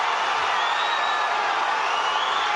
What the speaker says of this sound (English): the crowd's really getting behind Askin now